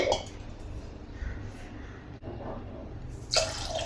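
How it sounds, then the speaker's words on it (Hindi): Water pours into a pressure cooker holding soaked urad and chana dal, a soft, uneven splashing trickle with a brief louder splash near the end, fairly quiet overall. "थोड़ा ही पानी डालूंगी"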